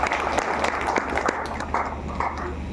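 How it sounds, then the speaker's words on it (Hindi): An audience at a public event claps in a brief, dense burst of applause that holds steady for a few seconds at close range. "आप लोग के लिए एक बार जोरदार ताली हो जाए।"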